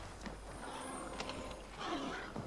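A horse whinnies amid background noise from the game Assassin's Creed Valhalla, with a couple of short hoof-like thuds; moderately loud and close.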